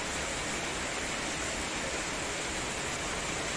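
Heavy tropical rain pouring steadily in Surabaya, Indonesia, a dense, even hiss with no breaks that stays loud and close throughout, with no voices.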